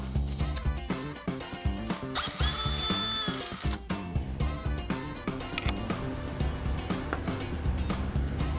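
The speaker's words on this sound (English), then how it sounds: "next we're going to remove this center bolt that has a retainer cap." A power tool spins out the retainer-capped center bolt of an RS1000 motor, a loud buzzing whir with repeated ratcheting bursts and short pauses, close and continuous throughout.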